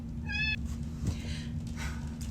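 A cat asking to be let out of a room meows once, short and close, then soft shuffling and faint knocks follow over a constant low hum.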